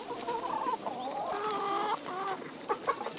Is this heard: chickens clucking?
yes